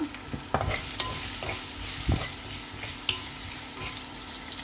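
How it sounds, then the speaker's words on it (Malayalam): Sliced onions sauté with salt in a pan for tomato curry, producing a continuous close sizzle broken by a few sharp spoon knocks and scraping stirs. "സവോള എടുത്തു പിന്നെ അതിലേക്ക് കുറച്ച് ഉപ്പ് ആവശ്യത്തിന് ഉപ്പ് ഇട്ട് കൊടുക്കുക"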